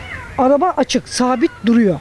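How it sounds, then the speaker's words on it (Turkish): A cat trapped inside a car meows repeatedly in short, plaintive cries, close and clear, while someone speaks alongside the calls. "Ne kadardır bu kedi burada böyle miyavlıyor?"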